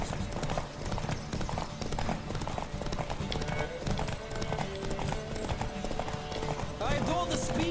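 Horse hooves gallop in a Witcher 3 horse race, a rapid steady clip-clop running throughout with game music and effects underneath and a brief whinny-like sound near the end.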